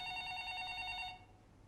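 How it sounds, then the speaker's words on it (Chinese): A mobile phone rings with a steady, bright electronic trill that is close and clear, then cuts off after just over a second, leaving a quiet room. "你听到他的电话响了"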